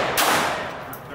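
Two loud gunshots from a 9mm Smith & Wesson M&P 2.0 pistol at a shooting range, sharp blasts spaced under a second apart and close to the microphone, with a lingering reverberant tail.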